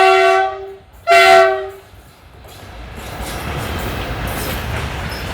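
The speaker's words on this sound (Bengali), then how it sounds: "মাল ট্রেন দেখছেন কত বড় মাল ট্রেন আছে।" A long goods train at Bilasipara railway station sounds two loud horn blasts, the second following a short gap. A rising rumble of rolling wagons swells afterward as it passes close by.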